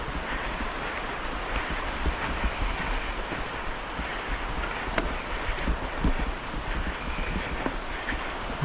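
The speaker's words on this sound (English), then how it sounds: "You can hear the river going high" A river running high beside a mountain bike trail in Bethlehem gives a constant, dense rush of water mixed with wind buffeting, steady and loud throughout with no talking.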